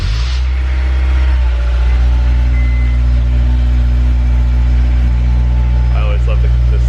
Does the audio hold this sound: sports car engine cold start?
yes